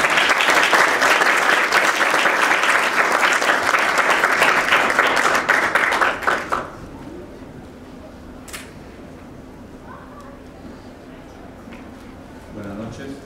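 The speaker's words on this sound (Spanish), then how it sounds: "Por favor, fuertes aplausos para ellos." An audience at a centenary tribute to poet Marco Antonio Corcuera during the 2017 book fair gives loud, sustained applause that cuts off after about six seconds, leaving a quiet room with faint murmurs.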